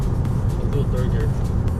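10th-generation Honda Civic Si accelerating hard in third gear, a loud, rumbling engine and exhaust drone heard from inside the car, with people talking over it.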